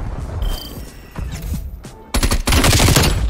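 Burst-fire gunshots from the KSP 45 in a video game, with faint mechanical clicks and distant shots at first, then loud rapid bursts crackling close up at the end.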